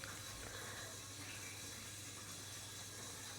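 Chopped onion with whole cumin sizzles in mustard oil in a pan, a steady faint hiss and crackle of frying that continues evenly with no talking.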